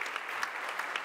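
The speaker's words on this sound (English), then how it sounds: "could you please welcome, with a big applause" Applause from a conference audience welcoming a federal minister onto the stage, an even, dense patter of many hands, moderately close and steady throughout the short burst.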